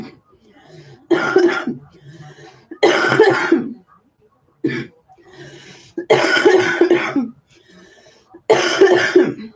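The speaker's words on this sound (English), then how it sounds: "excuse me for all my coughing" Repeated harsh coughing fits, loud and close, four or five bursts separated by brief pauses, with a throat-clearing sound among them.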